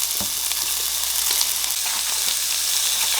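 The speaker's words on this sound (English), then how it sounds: "Add in the second more pork belly." Pork belly sizzles loudly on an indoor Korean BBQ grill, a dense, continuous hiss of frying fat with small pops and crackles close by and no one talking.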